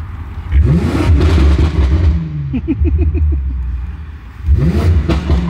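A Lamborghini Urus engine revs hard and accelerates, a loud, close, throaty roar rising in pitch, easing off with crackling pops, then surging again with another burst of revving.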